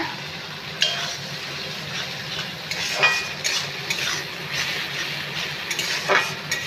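Slit green chillies frying in a pan, a soft steady sizzle broken by a few louder clinks and scrapes of a spoon against the pan, close and without speech.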